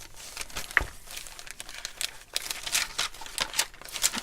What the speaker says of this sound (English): It's noisy paper.